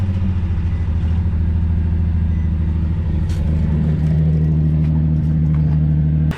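An Infiniti G35 engine with a blown head gasket runs close by in a loud, steady low rumble, its idle tone rising slightly partway through before cutting off at the end.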